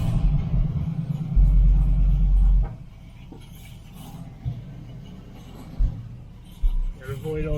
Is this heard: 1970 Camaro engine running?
yes